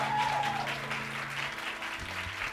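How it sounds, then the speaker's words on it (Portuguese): A church congregation applauds, a dense wash of clapping that carries on for a few seconds under faint background tones and a brief sung or spoken note at the start. "Ustedes pueden dar un aplauso."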